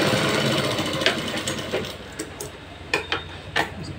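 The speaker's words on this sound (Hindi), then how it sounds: "मियानी पे हम डबल सिलाई चला लेंगे।" A sewing machine stitches a double seam along a salwar crotch with a fast, close mechanical chatter that slows and breaks into separate clicks and short bursts toward the end.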